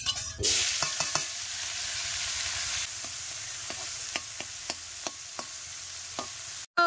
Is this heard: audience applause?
no